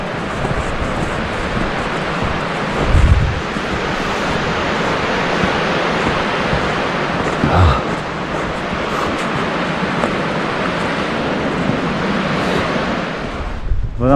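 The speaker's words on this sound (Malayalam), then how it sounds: "അവിടെ അരുവി പൊളി" A mountain stream rushes along a winter trekking route in Kutla valley near Bhudavan, a loud continuous broadband roar of flowing water with gusts of wind buffeting close by.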